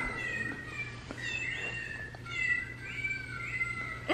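Battery-powered toy cats keep meowing after a button is pushed, a run of overlapping synthetic mews that bend up and down, close by over a low steady hum, ending in a brief louder burst.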